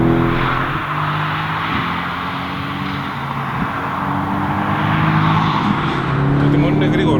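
Mercedes-AMG GT S engine pulling in race mode at half throttle, a steady strong growl rising in pitch inside the cabin with someone talking over it.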